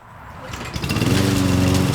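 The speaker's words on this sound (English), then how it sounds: "let's start her up and mow this yard" Lawn mower engine cranking and catching, rising from quiet into a loud, steady buzzing run within two seconds, close by with no talk.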